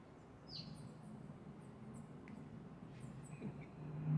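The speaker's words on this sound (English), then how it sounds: "early in the morning, hearing the birds" Faint, sparse bird chirps in the early morning high above a low ambient rumble, a few short calls scattered across a quiet outdoor scene.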